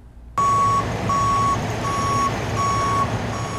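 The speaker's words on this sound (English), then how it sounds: "A caravan of tow trucks taken to the streets to promote highway safety." Tow trucks in a street caravan promoting highway safety, with a loud reversing beep pulsing in an even rhythm, about five beeps with short gaps, over a steady engine rumble and no talk.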